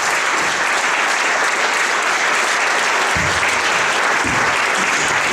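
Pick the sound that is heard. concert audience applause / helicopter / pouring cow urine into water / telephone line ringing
concert audience applause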